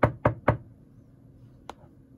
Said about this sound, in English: And the white crayon knock on the door.